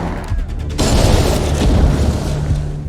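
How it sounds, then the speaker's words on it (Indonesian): A bomb goes off in a tunnel during a film scene: a sudden loud boom breaks in and then rolls on as a dense, sustained roar of debris and echo. "tiba-tiba satu anak buah Selena meledak bom terowongan yang sebelumnya sudah dipasang"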